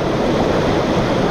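Water of the Sinapulan River, fed by an underground source, rushes steadily over big rocks in a mountain setting in Columbio, Sultan Kudarat, a loud, constant broadband roar close by with no voices.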